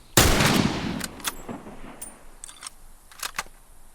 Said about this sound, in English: So this is what a reload normally looks like with just the rifle.